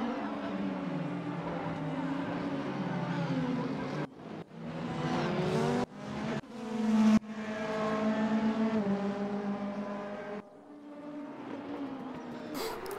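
Race cars, including a BMW and an Audi, roar past on a racing circuit, loud revving engines rising and cutting off between gear shifts, several passes in quick succession.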